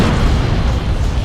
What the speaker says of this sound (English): Demolisher cannon completely misses its target there